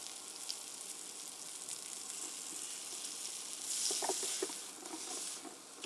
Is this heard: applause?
no